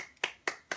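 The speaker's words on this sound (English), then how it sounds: "that was the most, like, just saddest clap ever" Three short, quiet hand claps evenly spaced a quarter second apart, sharp and thin with a quick decay, alone in a quiet room.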